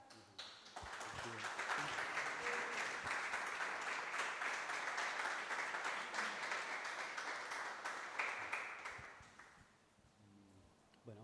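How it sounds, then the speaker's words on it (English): Audience applause at an artificial intelligence arts panel swells after a brief start, holding as a full, even clatter of many hands for about eight seconds before dying away into quiet room noise. "Applause for Òscar."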